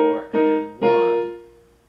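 Solo piano playing a short phrase from the next section of a song, two struck chords with sustained harmonics that ring and fade out, close and clear with no voice.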